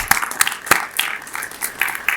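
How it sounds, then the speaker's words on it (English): Audience at an annual community meeting of Loring Park residents in Minneapolis breaks into applause, a short burst of scattered, uneven hand claps from a small crowd, fairly close and without talk. "So I'd like to give Jana a round of applause as well."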